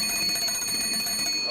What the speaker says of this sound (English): He's got the bell going.